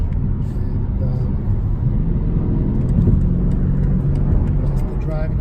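A 2019 BMW M850xi drives in sport mode with a steady, loud low engine rumble and road noise throughout, a continuous smooth drone with slight swells.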